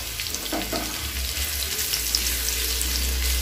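Crushed garlic and curry leaves fry in hot oil with mustard seeds, giving a steady, close sizzle with faint stirring, no talking.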